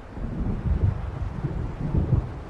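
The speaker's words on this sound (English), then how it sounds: "It seems there's a storm coming." Low, rolling thunder of a storm approaching over open water in the video game Alan Wake Remastered, a steady rumble that swells twice, with no talk.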